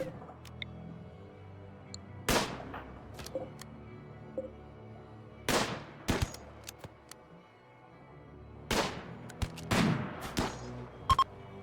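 Sporadic gunfire in RimWorld, a colony firefight against attackers sheltering behind a wooden wall with a shield belt: sharp cracks in short scattered bursts, moderately loud over a quiet game background.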